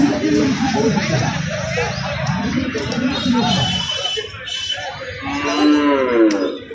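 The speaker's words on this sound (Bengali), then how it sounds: "এখানে হলো সব বড় সাইজের গরু" Cattle moo repeatedly amid a busy livestock market crowd in Bancharampur, with people talking and calling nearby over a steady hubbub of voices.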